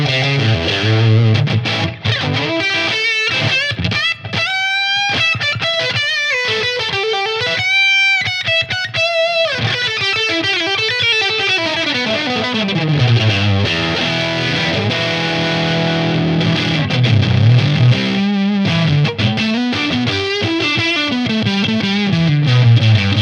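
An electric guitar with humbucker pickups plays through a Tonex Suhr Plexi amp model, loud and distorted, with ringing sustained notes, bends and chordal passages throughout, and no talking.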